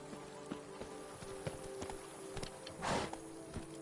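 Roach the horse in The Witcher 3 video game, hooves clip-clopping in a quick steady rhythm at close range, with a brief whoosh or snort rising near the end.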